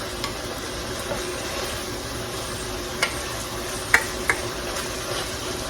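Garlic sizzles steadily in a pot, a soft continuous frying hiss with a few faint clinks of a utensil against the pot.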